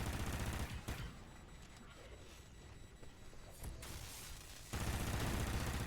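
Sustained gunfire during the Exodus mission of the game Call of Duty: Ghosts, rapid continuous shots that swell loudest at the start and end.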